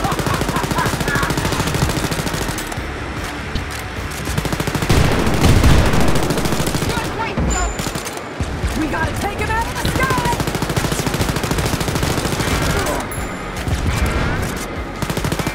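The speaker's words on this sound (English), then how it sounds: "one of us has to draw his fire and the other one will shoot the back" Gunfire in Wolfenstein: Youngblood rattles in loud, sustained automatic bursts and overlapping shots, nearly continuous, with a voice talking at points.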